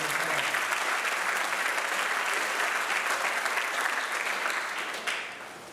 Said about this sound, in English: Please give these 2 individuals a round of applause.